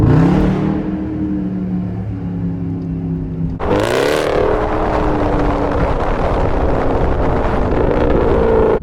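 A 500HP SRT Jeep engine drones loudly while driving at night, holding a steady tone, then revving sharply near the middle with a hissing burst before settling into a rising, rumbling pull under wind noise.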